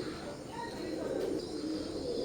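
A pair of young Teddy 128 pigeons, at the two-to-three-feather stage, coo softly and steadily against a constant background hiss, with no clear pauses across the short stretch.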